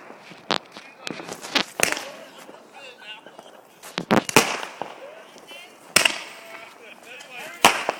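New Year's fireworks are launched over a house in Anchorage, giving sharp, close bangs and crackles in irregular bursts. People talk and react between the explosions.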